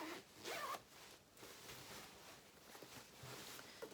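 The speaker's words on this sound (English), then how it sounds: "so that when we do zip this up" A dress zipper being zipped up while sewing a Cashmerette Upton dress with a lined back: quiet, close rasping zip strokes, a short burst followed by a longer steady pull.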